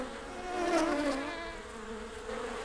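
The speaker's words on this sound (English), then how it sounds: "The bees were still buzzing busily from flower to flower in the field." Cartoon bees buzzing busily over a flower field in a Thomas & Friends episode, a soft, close, wavering drone that swells briefly then holds steady, with no voices.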